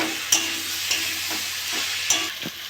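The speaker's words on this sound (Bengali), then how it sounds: "ভালো করে কষে নেব" Tilapia fish and spices sauté with potato and okra in a pan under a steady, close sizzle. A few scraping stirs break through at intervals, and no one speaks.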